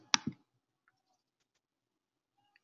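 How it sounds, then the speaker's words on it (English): Computer mouse clicks while navigating an online fellowship program participant list: two sharp close clicks at the start, then near silence, and one more click at the very end. "And then clicking on the participants."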